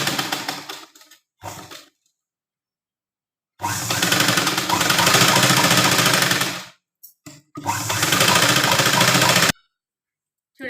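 A sewing machine stitches the front lining of a baby lehenga jacket in several loud, rapid bursts, with a few short runs and pauses between longer stretches of steady whirring.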